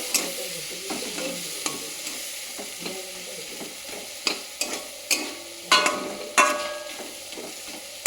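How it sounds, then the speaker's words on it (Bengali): Onion, tomato and chili fry in a pan for karahi paneer, a low steady sizzle under repeated scraping stirs that grow into sharper spatula clacks against the pan toward the end. "এরপর পেঁয়াজ, টমেটো, লঙ্কা সব কিছু দিয়ে দিলাম। ভালো করে ভেজে নেব এগুলো।"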